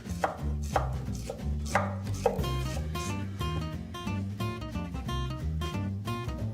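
A knife mincing half a shallot on a cutting board, rapid close rhythmic chops in quick bursts alongside steady background music, with no talk over them.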